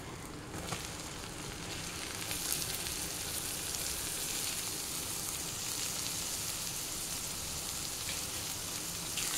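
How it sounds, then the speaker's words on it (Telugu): Onions and spices fry in a pan for a butter egg masala curry, making a continuous, even sizzle like steady rain that stays close and moderately quiet throughout, with no one speaking. "కొద్దిగా రంగు మారే వరకు వేయించుకోవాలి"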